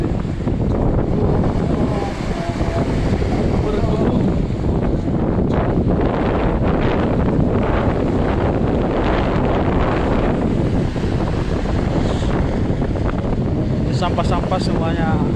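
Sea waves churn and wind buffets the microphone at the floating B.J. Habibie mosque in Parepare, South Sulawesi. The roar is loud and constant, with faint voices underneath.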